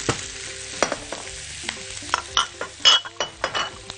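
Thinly sliced onions and zucchini slices sauté in a pan with a sizzle. A utensil scrapes and clinks against the pan in irregular strokes, louder and busier toward the end.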